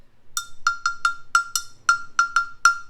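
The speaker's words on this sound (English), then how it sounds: "These are just cheap little cowbells you'd get like free at a football game." Cheap little football-game cowbells are struck ten times in a steady series, each hit a bright, clanking ring that decays quickly, fairly close and loud with no talking.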